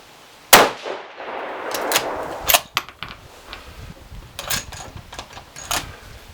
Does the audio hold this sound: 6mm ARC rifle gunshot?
yes